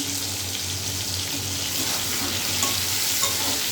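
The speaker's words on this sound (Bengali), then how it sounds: "আলুটা ভাজা হতে থাকুক" Potatoes and chopped tomato sizzle in a hot pan with a steady, close frying hiss and faint stirring scrapes throughout, with no talking.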